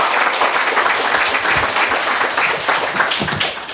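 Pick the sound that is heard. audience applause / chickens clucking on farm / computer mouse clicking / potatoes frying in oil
audience applause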